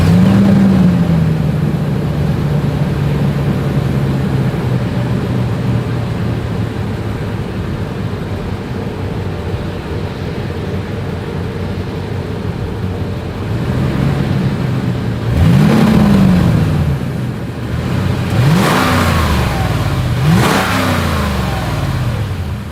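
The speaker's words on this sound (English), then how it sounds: "As always, here is that exhaust clip." A 2022 Lexus GX 460 exhaust idles steadily, then gives several loud, sharp revs near the end, each rising and falling quickly, with no talking.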